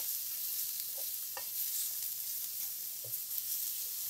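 Steady high hiss of chicken frying in a wok, with a few soft pops and spatters scattered throughout.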